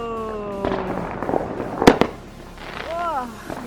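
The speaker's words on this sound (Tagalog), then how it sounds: "Sari-saring fireworks dito." Fourth of July fireworks burst outside in an American neighbourhood, with two sharp loud bangs close together, scattered crackles and a whistling rise, while people talk and exclaim nearby.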